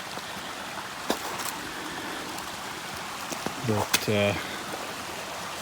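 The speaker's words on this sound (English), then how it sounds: "Little creek. There's a bit of a spring further up that feeds into this" A small spring-fed creek flows steadily as a constant broadband rush along a hiking trail, with a voice briefly speaking over it near the end.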